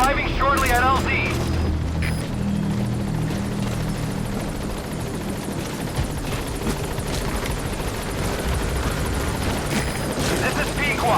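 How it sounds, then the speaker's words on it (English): Pequod support helicopter in Metal Gear Solid V: The Phantom Pain arriving at the landing zone, a loud heavy rotor drone and rumble that holds steady and close, with voices speaking over it. "Support helicopter has arrived."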